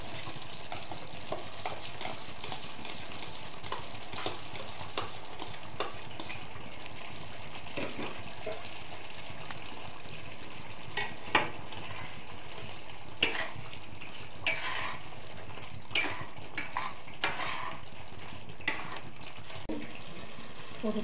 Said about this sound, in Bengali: আমি যে পনিরগুলো ভেজে রেখেছিলাম সেগুলো সব দিয়ে দিচ্ছি।